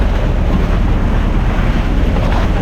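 Strong wind and rough sea water at sea on the first day of a trip, a steady, dense roar of surf and gusting wind buffeting close to the microphone without a break.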